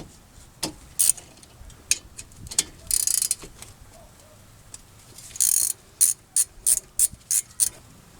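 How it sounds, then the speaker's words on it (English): A ratchet wrench clicks as it loosens the brake caliper bolts on a 2005 Toyota Corolla, with close, crisp ratcheting bursts and single clicks in an uneven rhythm and short pauses between strokes. "Now we can remove these two caliper bolts here."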